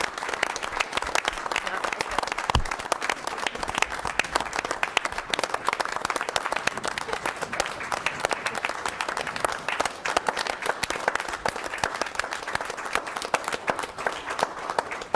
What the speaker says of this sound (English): I give him a standing applause